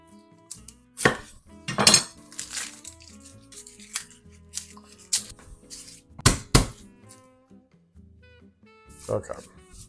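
Onions and garlic are prepped in a kitchen, with scattered sharp knife chops, clinks and squishy handling noises coming in irregular bursts with quiet gaps between them.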